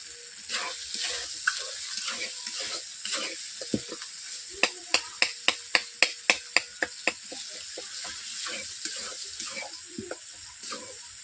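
Tomatoes frying in oil with turmeric and salt, a soft sizzle broken by a quick run of sharp taps and scrapes of a spoon against the pan, close and fairly quiet.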